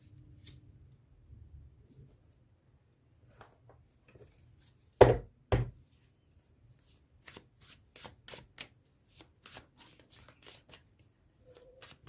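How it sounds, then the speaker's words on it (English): Tarot cards riffled and tapped together in scattered bursts, one louder riffle then a series of quick light snaps, close and without talk. "let me shuffle your cards"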